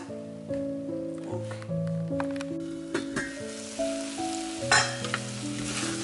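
Masala spices sizzling and frying in a pan for a leftover chana kebab dish, a steady close sizzle with stirring scrapes, while a tonal hum or music-like drone holds underneath; no speech.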